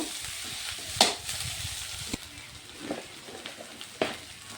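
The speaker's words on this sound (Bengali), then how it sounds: "যে গ্রেট করে রাখা আলুগুলো দিয়ে দিচ্ছি। আলুগুলো একটু এগুলির সঙ্গে মিশিয়ে নেব।" Grated potatoes go into a frying pan for Kashmiri chilli chop filling and get mixed, a soft steady sizzle with scraping stirs and a few sharp clinks of the spatula against the pan, close and fairly quiet.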